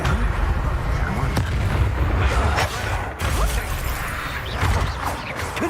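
Fiery spell blasts from Hogwarts Legacy combat, a series of loud crashing explosive bursts over a dense, rumbling battle din, one hit after another across the stretch.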